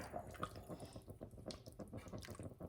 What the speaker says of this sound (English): you're going to add about 4 cups of water